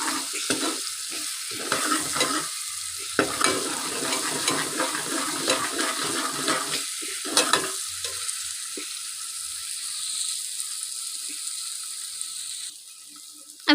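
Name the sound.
frying green chillies with tomatoes for masoor dal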